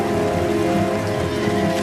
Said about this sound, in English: The rain forced the weapons from their hands.